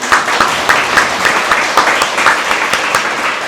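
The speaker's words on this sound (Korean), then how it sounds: "우리 예수님께 영광의 박수 한번 드립니다" A church congregation claps for a sustained stretch, dense overlapping hand claps forming steady, fairly loud applause that fills the room with no talk over it.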